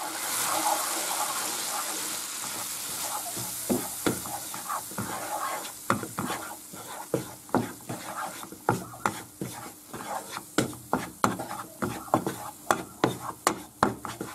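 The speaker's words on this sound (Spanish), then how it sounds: "Ahora echamos la harina, le damos un par de vueltas." Flour being stirred into a pan for béchamel, soft scraping and sizzling at first, then a series of sharp, rhythmic knocks of a utensil against the pan growing more regular and pronounced toward the end.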